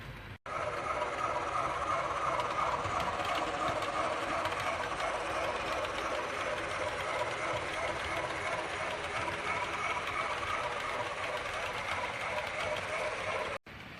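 A Class 68 locomotive on a model railway layout hauls its train in a steady, continuous mechanical rumble and whir, close and even in level from start to finish, with no voices.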